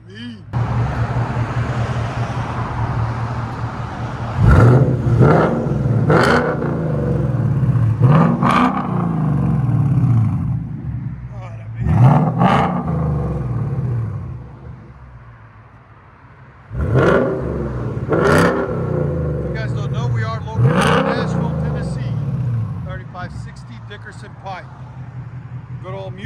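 A 2015-2023 Ford Mustang GT 5.0L V8 with an aftermarket cat-back exhaust barks through a series of sharp revs over a loud idle rumble, about seven bursts with pauses between, and voices talk in between.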